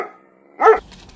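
A single dog bark, loud and close, with a short sharp burst after a brief low sound and then quiet.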